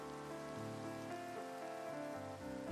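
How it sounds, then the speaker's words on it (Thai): Rain falls steadily in the Minecraft video game as ordinary rain with no thunder, a soft continuous patter running under quiet background music. "ไม่ใช่พายุฝนฟ้าคะนองค่ะฝนตกธรรมดาธรรมดา"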